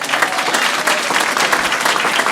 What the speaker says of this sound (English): So I want to give them a big round of applause.